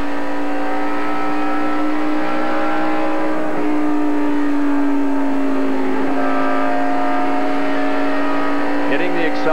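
A NASCAR Winston Cup stock car races at the 1994 Brickyard 400, its engine holding a loud, sustained high-pitched drone that sags slightly in pitch, with crowd and track noise underneath and a commentator talking over it.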